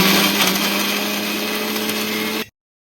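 An electric kitchen mixer grinds chillies, green chilli and salt into a chutney with a steady high whirring roar that runs close and loud, then stops abruptly.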